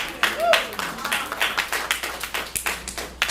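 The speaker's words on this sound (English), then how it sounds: "give Brother Lewis another round of applause, please" Audience at a poetry night claps in a short burst for a poet, a run of near, moderately loud claps in an uneven rhythm, with scattered voices underneath.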